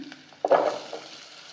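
Green chillies, curry leaves and onion hitting a hot pan for a veg biryani, a soft sudden sizzle that flares up and fades, quiet and close with faint stirring.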